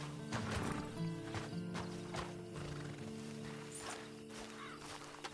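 Horse hooves in the video game Red Dead Redemption 2 clop along with a neigh, set among quiet ambient game sounds, moderately close and fairly soft, with no talking.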